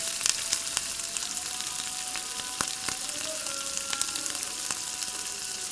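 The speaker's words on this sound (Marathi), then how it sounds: "जरा पूर्ण चांगले परतून घ्या" Soya chunks with finely chopped fresh coriander sautéing in a pan, giving a steady close sizzle with scattered crackles and a few light scraping stirs, no voices.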